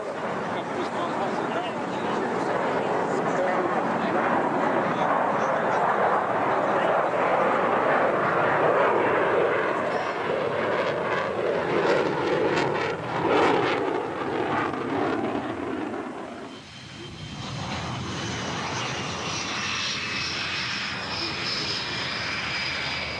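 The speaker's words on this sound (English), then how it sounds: "This is ex-MiG pilot Anatoly Kvochur, now flying Su-27s, making a low-speed pass at a very high angle of attack" A Sukhoi Su-27 fighter jet makes a low-speed, high angle-of-attack pass, its engine roar loud and sustained under a narrator's talk, then dropping away abruptly to a thinner, distant whine.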